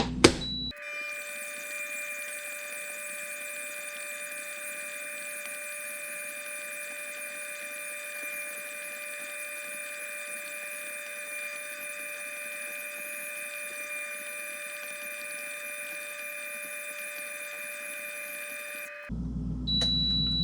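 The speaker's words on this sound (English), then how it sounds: "now it's stopped, and then it's going the other way, so it's going to start extruding the noodles" A Starfrit electric pasta maker's motor hums steadily while its paddle mixes noodle dough, a constant close mechanical drone with a sustained whine that runs unchanged for nearly twenty seconds before stopping abruptly.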